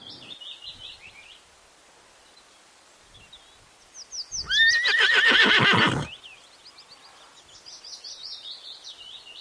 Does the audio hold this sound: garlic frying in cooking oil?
no